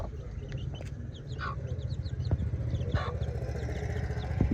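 Aseel rooster and hens around new cages give short clucks and chirpy calls over a steady low outdoor rumble, fairly close, with no one talking.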